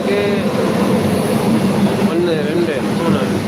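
A goods train hauled by two engines rolls through a railway station at Kilambakkam, Chennai, a steady loud rumble of wagons with faint squeals, under a voice talking throughout.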